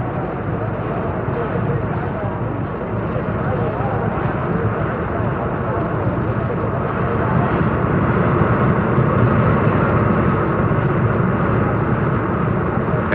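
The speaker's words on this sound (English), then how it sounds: "of flame shoot from the afterburners as they're heated in preparation for one of the most spectacular sights in night racing" Jet dragsters fire their afterburners at a nighttime drag race, a continuous, loud, broad roar that holds steady with no break while an announcer speaks over it.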